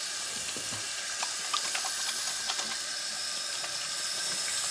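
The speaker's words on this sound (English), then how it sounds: "So I'm just gonna rinse my hands." Tap water running steadily into a sink while hands are rinsed, a constant hiss with small splashes and clinks, close and fairly quiet, with no talking.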